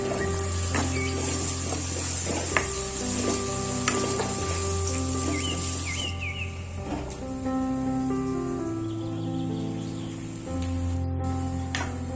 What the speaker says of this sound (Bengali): পেঁয়াজটা ঠিক এইভাবে লাল লাল করে ভেজে নিতে হবে